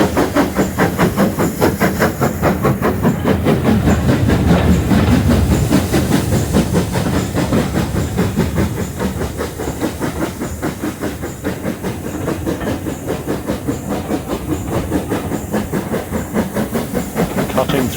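A steam locomotive hauls a train on the Bodmin Steam Railway, with loud, rapid rhythmic chuffing and hissing steam over rolling wheel clatter, continuous and close, swelling slightly before easing off.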